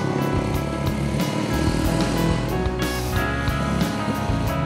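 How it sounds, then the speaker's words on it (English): BMW R nineT Scrambler with its air-cooled two-cylinder boxer engine running steadily, loud and close, with a continuous throbbing drone and no talk. "The classic air-cooled boxer engine delivers 110 horsepower."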